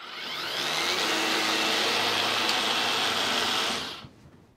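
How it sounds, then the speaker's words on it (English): A Ryobi 40 volt Expand-It snow thrower attachment runs with a steady, close electric motor whine. The whine holds for about four seconds, then spins down and stops. "there it is on the Ryobi snow thrower, 40 volt"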